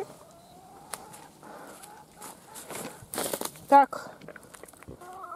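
Backyard hens cluck in short, scattered bursts near a garden compost heap, with one sharper cluck standing out, amid rustling and handling noises and a person speaking briefly.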